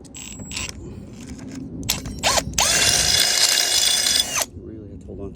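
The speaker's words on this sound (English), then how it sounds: "we're back at it again with the drilling" A power drill whirs steadily for about two seconds while mounting a horn bracket on a Talon GSX150R2 go-kart, loud and close, with a person talking before and after it.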